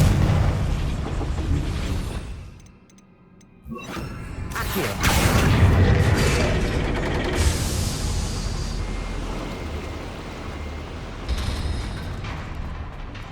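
A Confringo spell bursts in a goblin mine in Hogwarts Legacy, a loud fiery explosion with a whooshing blast and rumbling, crashing debris that rolls on for several seconds.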